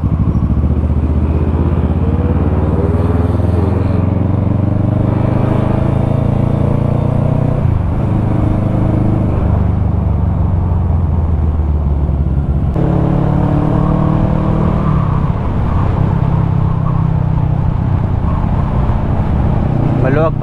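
A big bike motorcycle engine running and revving on a public road, loud and near, its pitch rising and falling in several throttle swells that build and ease off.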